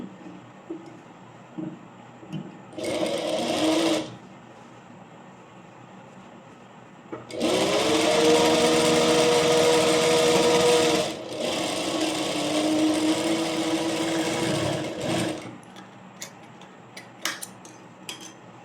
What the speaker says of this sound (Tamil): ஸோ ஆஃப் இன்ச்சுக்கு நம்ம மடித்து அடிச்சுக்கலாம்.